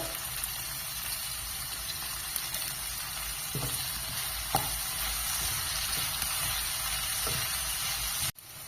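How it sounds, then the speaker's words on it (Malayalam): Sliced onion rings sauté in a hot pan for a tomato fry, giving a steady, continuous sizzle with a few soft stirring knocks, no voices over it. "അതിലേക്ക് മൂന്ന് സവാള വട്ടത്തിൽ അരിഞ്ഞത് ഇട്ട് വഴറ്റുക"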